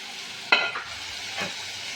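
Green chilies, garlic and sliced ginger added to sautéing small onions in a pan, a quiet steady sizzle broken by two short stirring scrapes.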